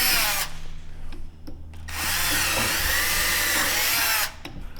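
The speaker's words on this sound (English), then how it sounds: "Just pre-drill, because you will crack these doors if you don't pre-drill." A power drill pre-drills hinge screw holes in a wooden door, with a short whirring burst followed by a longer steady run up close and no talking.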